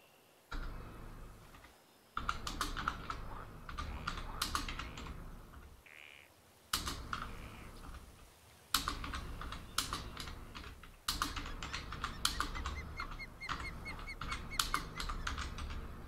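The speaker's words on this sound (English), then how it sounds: "Sorry for clunking away my keyboard there. It's not the quietest of keyboard." Clunky, fairly loud computer keyboard typed in rapid bursts of clacking keys, separated by short pauses, with an occasional bird call in the background.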